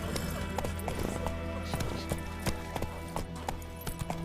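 A horse gallops in Witcher 3: Wild Hunt, its quick, steady clip-clop hoofbeats continuing close and loud over a bed of game ambience, with a brief voice in the mix.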